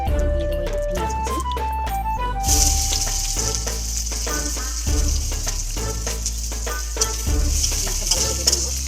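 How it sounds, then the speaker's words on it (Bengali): Chopped onions sizzle and fry in a pan for a village-style meat curry, a steady loud hiss that begins a few seconds in after some softer clinks and tones, with no talking. "ভালো করে ভেজে নেবো।"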